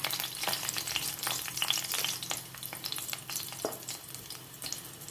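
Onion frying in hot oil for green masala ghee rice gives a close, continuous crackling sizzle broken by frequent sharp pops and the clatter of stirring, with no talk.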